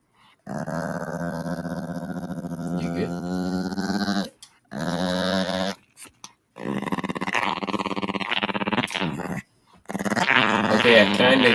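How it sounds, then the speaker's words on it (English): A dog growls low and rumbling in long sustained bouts, broken by short pauses, loud and close, with a few grunting breaks. "Dog."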